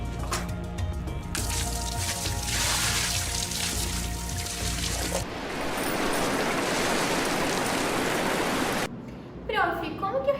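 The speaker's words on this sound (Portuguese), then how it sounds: "Se pegar um balde cheio de água e virar com muita força no chão, ele faz um barulho de cachoeira." A full bucket of water dumped hard onto a floor gives a loud, sustained rushing splash like a waterfall lasting several seconds, followed by a brief quieter moment with faint voices.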